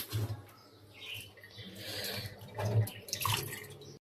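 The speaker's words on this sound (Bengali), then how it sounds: "আমি ধুয়ে নিতেছি।" Tap water runs into a sink as cut vegetables and fish are washed in a home kitchen, a quiet continuous trickle with soft splashes and a few handling clatters, with no talking.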